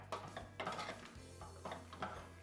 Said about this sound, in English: Then you want to just mix it together.